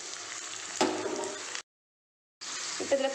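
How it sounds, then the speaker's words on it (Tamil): A little water is poured into sizzling cauliflower masala, producing a loud hissing, bubbling fry that briefly drops to silence and then returns. "இப்போ இதில் கொஞ்சமாக தண்ணி சேர்த்துக்கோங்க"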